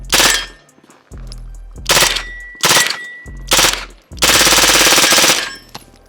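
Full-auto bursts from an AK rifle fed by a Scorpion magazine, loud and close: several sharp rattling strings of fire separated by short pauses, ending in one long sustained burst.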